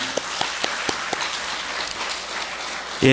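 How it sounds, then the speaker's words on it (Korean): A church congregation applauds during a Sunday sermon, a soft, diffuse patter of clapping with a few sharper claps standing out, ending in a sudden louder burst. "여러분, 죽음을 이기신 예수 그리스도께 우리 다시 한번 영광의 박수를 올려드리겠습니다."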